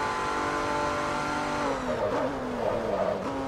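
A race car with a damaged engine laps Road America in Forza Motorsport 3, its engine note droning steadily, then shifting pitch with tire squeal as it slows into a corner.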